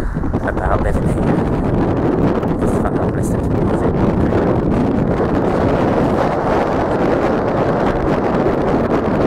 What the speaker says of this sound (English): It's really gusty here actually.